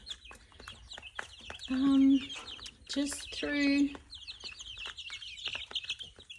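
Laying hens in a replenished poultry flock cluck and call close by, with a few louder sustained squawks amid chirpy bird sounds, while a person speaks briefly.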